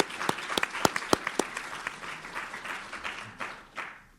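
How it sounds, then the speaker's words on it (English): A small panel audience claps, starting with a few sharp, distinct claps that quickly blend into a modest round of applause before fading out. "Can we have applause for Bill for being here?"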